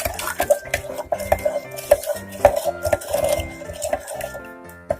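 A spoon stirring orange wine and sugar inside a 3-litre jar, with quick, irregular clinks and scrapes against the jar's sides, close and fairly loud with no talking.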